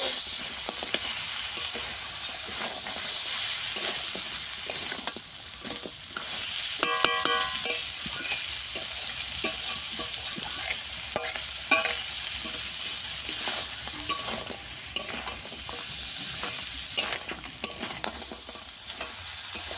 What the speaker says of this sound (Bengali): কাঁকড়া আমি ভালো করে কষিয়ে নিয়েছি।